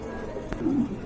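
A pair of red indigo pigeons cooing close by, soft low throaty coos with a brief sharper note in the middle, no voices over them.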